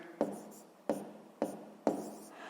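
Pen or marker writing math on paper for a sixth-grade exercise, four distinct tapping strokes at a steady rhythm with scratchy trailing between, close and fairly quiet with no voice.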